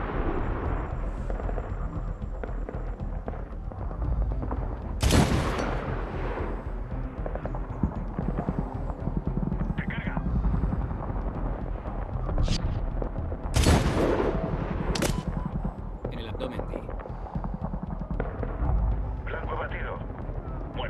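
Medal of Honor combat with heavy gunfire and sharp explosive blasts, several loud bangs standing out over continuous battle noise while people speak throughout.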